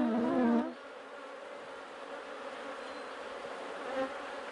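Honeybees buzzing inside an open beehive above a queen excluder, a steady close hum of many wings, with one louder nearby buzz at the very start and another brief one near the end.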